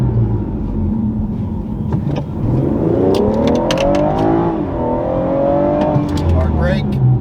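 A BMW F36 440i accelerates with a rising engine drone and tire rumble, then eases off as it brakes hard, heard from inside the car while a person talks over it.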